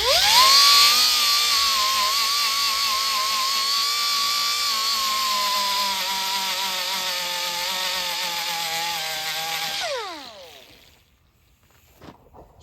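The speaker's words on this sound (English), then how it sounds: "So we're gonna grind it first and then fill it in." A power grinder works on the body of a sit-down Spy Hunter arcade cabinet before short strand fiberglass filling, whining loud and steady for about ten seconds, then spinning down and stopping.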